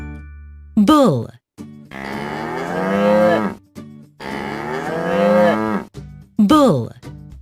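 A bull gives a series of long, loud moos, three deep drawn-out calls with short gaps and harmonic voicing, alone with no talk over them.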